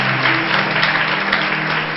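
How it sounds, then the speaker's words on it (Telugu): An audience claps loudly together at a church gathering, a dense, sustained wash of applause that stays at full strength throughout, close and steady with no voices over it. "గట్టిగా చప్పట్లు కొడదాం"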